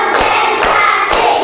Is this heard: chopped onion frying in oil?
no